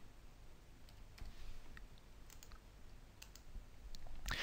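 A computer mouse clicks a few times while working in genealogy software, faint sharp clicks scattered over a quiet room hiss, with no talking.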